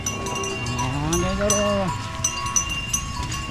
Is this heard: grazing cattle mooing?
yes